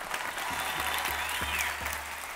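A theatre audience at a 2017 Aladdin stage show breaks into dense, sustained applause, many hands clapping together at full volume for a couple of seconds.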